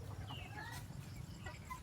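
Betong chickens, a breed originally raised in Betong and now kept on a farm in Nakhon, clucking and calling in short overlapping bursts over steady low farmyard rumble, fairly close, with no talk.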